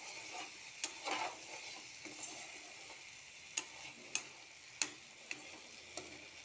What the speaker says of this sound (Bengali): এবারে আমি এটাকে নাড়াচাড়া করে মিশিয়ে দিই